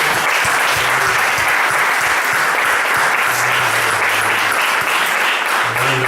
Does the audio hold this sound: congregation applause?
yes